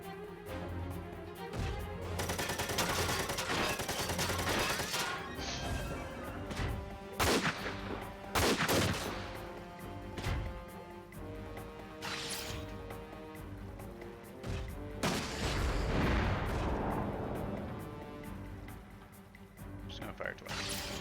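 Mech weapons firing in the tactical game Front Mission 4, with repeated loud bursts and blasts at irregular intervals amid layered game sounds and music, with a voice talking at times.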